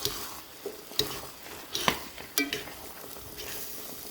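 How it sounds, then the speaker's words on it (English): Food is stirred in a pan, giving several distinct scrapes and knocks of a utensil over a soft background sizzle, close and fairly quiet. "now she's gonna give that a stir for me"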